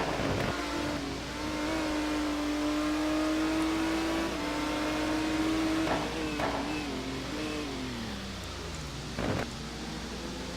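A GT1 race car engine held on throttle in a racing video game at Sonoma, a loud continuous roar with rising and falling pitch through gear changes, other cars briefly whooshing past.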